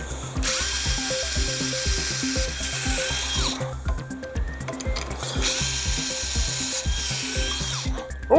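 A power drill with a dull bit grinds into electrical boxes in two long bursts, a loud whining drone with rattling, ratchet-like chatter, separated by a brief pause.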